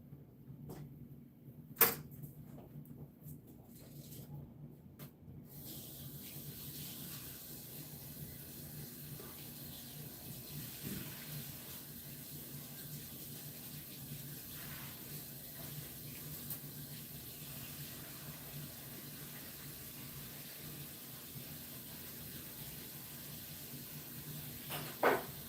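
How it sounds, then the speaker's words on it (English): Tap water runs steadily into a sink while a bottle is rinsed, a continuous broadband wash after a brief clatter at the start, moderately close with no talk over it. "rinse this out"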